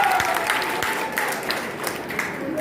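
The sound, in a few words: audience applause at college fresher party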